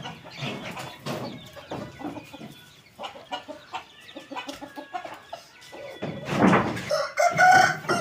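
A rooster crows loudly near the end while aseel chickens cluck repeatedly throughout, close by and busy, with no talking.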